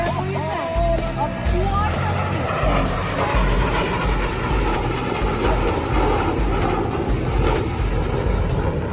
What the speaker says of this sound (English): The Northrop Grumman B-2 Spirit